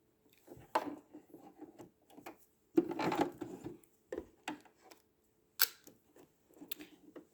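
A sewing machine stitching fabric for a round fabric bin, including a short back stitch, running in several brief, close bursts of whirring separated by pauses; no talking.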